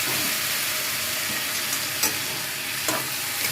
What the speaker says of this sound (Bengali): এই মশলাটা ভালো করে কষাতে হবে।